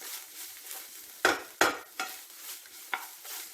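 A spoon scrapes and knocks as ginger is stirred in a pan for inji pachadi, several sharp strokes over a soft frying sizzle.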